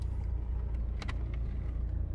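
A car sits stopped in a McDonald's drive-through lane, its engine idling as a steady low rumble through the whole stretch, with a couple of brief light clicks or rattles partway through.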